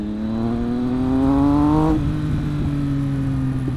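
BMW R1200RS or Honda CB650R motorcycle engine revving up, pitch climbing steadily for about two seconds before dropping back to a lower idle, loud and close with no talk.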